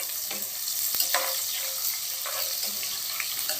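Onions fry in a nonstick pan with a steady sizzle and hiss, broken by a few soft clinks and scrapes of a spatula, close and moderately quiet.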